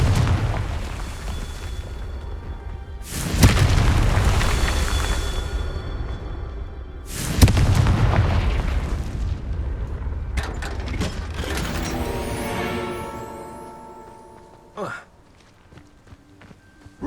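Confringo fire spells burst in Hogwarts Legacy, with three loud booming explosions spaced a few seconds apart, each decaying into crackling debris, followed by a shorter magical whoosh and faint shuffling between blasts.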